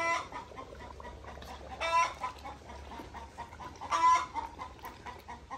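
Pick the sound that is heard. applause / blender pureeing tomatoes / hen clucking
hen clucking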